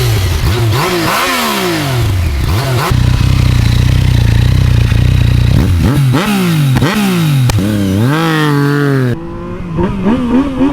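Yamaha MT-09 motorcycle with an aftermarket exhaust, loud and close, revving repeatedly with sharp rises and falls in pitch, a sustained high-rev hold in the middle, then dropping to idle.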